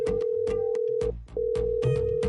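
A phone rings unanswered, a sustained electronic tone pulsing with rhythmic beats, broken by a short pause before the ringing resumes, fairly loud and with no voices.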